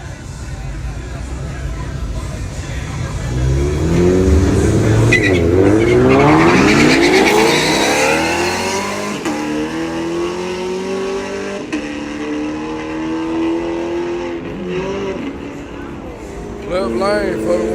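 A 1974 Oldsmobile with a 350 Rocket engine launches down a drag strip, its loud engine rising and roaring past close by with tire squeal, then fading while a crowd and an announcer talk over it.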